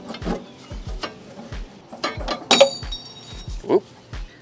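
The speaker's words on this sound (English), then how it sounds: "Got the clip pulled out" A metal retaining clip is pried out of a brake line fitting on a Toyota AE86 during a brake line upgrade, giving a sharp metallic snap and clink amid low handling clatter and tool knocks.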